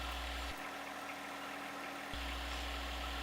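A compact tractor engine idles steadily with a constant low drone and a brief dip partway through, running alone with no talk while a post hole digger sits attached.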